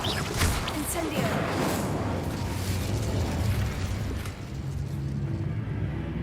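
An Incendio fire spell in Hogwarts Legacy blasts out as a dense, roaring burst of flame and crackle that fills the whole stretch at steady loudness, with a voice over it.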